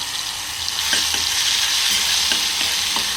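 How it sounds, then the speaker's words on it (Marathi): A tomato, onion, ginger and garlic paste frying in oil, a dense continuous sizzle with light stirring scrapes throughout, close and loud with no talking. "टोमॅटो, कांदा, आलं, लसूण हे सगळ्याचं मिश्रण असलेलं हे पेस्ट आहे, जी मी तेलावर फ्राय करून घेणार आहे"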